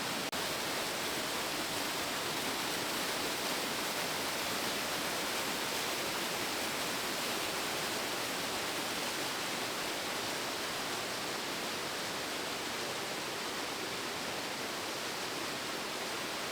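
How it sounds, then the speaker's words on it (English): A waterfall about 20 to 25 feet tall at the Indian bathtubs roars in a dense, continuous rush of falling water, loud and close, steady throughout with no voices. "there's a really good sized waterfall just right there, maybe 20 feet, 25 feet tall"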